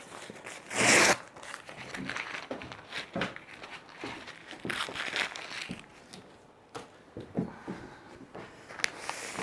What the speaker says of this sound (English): I'm going to pull the tape off.